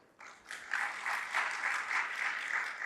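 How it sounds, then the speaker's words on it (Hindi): An audience at a religious sermon bursts into applause, the clapping starting abruptly and holding as a steady, moderately loud patter without speech. "तालियां तो बजा दी"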